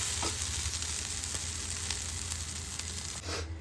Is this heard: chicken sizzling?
yes